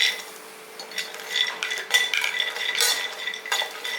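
A spoon stirs cashews, cardamom and pistachios dry-roasting in a pan, giving light, close scraping and clinking strokes in an irregular rhythm, with no talking.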